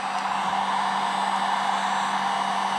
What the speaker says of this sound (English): This heat gun heats up pretty fast, so this should go pretty easy.